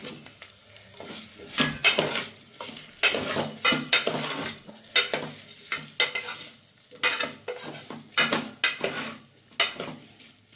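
Diced potatoes roasting in a pan for a greengram gravy, with repeated spoon-scraping stirs against the metal over a low steady sizzle, coming in uneven bursts close by.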